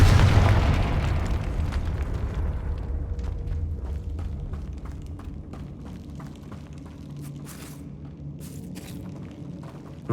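A Confringo fire spell explodes in Hogwarts Legacy, a loud deep boom up front that tails off into a long rumbling decay, with scattered smaller crackles and pops trailing behind.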